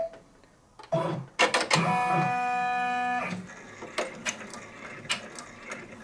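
A Brother or Baby Lock multi-needle embroidery machine stitches a placement line for letters, a loud, steady mechanical whir with a rapid needle rhythm running for about two seconds after a few clunks, then stopping as quieter handling noises follow.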